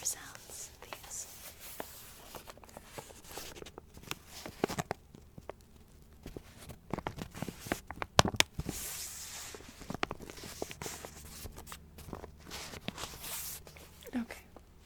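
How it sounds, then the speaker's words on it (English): Crinkly paper of an album sleeve rustles and crackles in close, irregular bursts, with soft whispering woven throughout. "I love the crinkly paper sounds of these."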